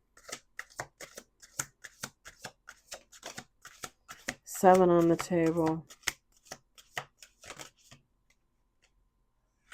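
Tarot cards being shuffled by hand, sounding as a long run of crisp, close riffling clicks with a sustained burst partway through, under a voice counting cards aloud.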